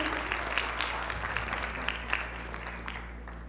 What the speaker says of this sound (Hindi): एक बार जोरदार तालियां हो जाए हमारे सुनील सर के लिए।